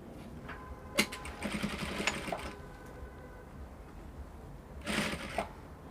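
A sewing machine stitches a collar to a dress neckline in short, faint clattering bursts near the start and again near the end, with quiet stretches between.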